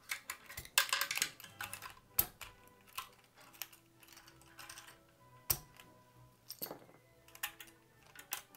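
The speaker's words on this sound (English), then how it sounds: "Keycaps are coming off." Keycaps being pulled off a mechanical keyboard, a series of irregular sharp plastic clicks and snaps with quiet pauses between them, close and fairly soft.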